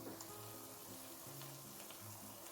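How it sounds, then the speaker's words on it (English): Sausage (chicken and chorizo style) browning in a pan for jambalaya, giving a steady, moderate sizzle and crackle throughout with faint kitchen hum beneath, close and continuous with no talk. "the sausage should be brown now"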